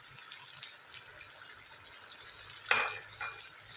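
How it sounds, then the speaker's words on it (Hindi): Spices fry in hot oil for Peshawari siri paye, giving a faint, steady sizzle with a brief louder spatter near the end, heard up close with no voices. "अब मैं इसमें बाकी के मसाले शामिल करूँगी, इसको अच्छे से इसकी भुनाई करनी है।"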